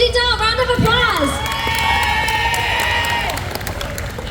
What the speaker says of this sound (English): Miss Dizzy Doll, round of applause.